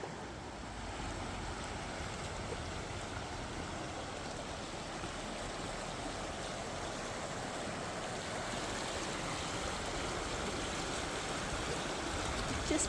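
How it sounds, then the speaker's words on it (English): Small river rapids at a roadside stop in Ontario, a continuous broadband rush of water with wind buffeting the microphone, steady and fairly loud throughout with no talking. "We saw some little rapids here as well."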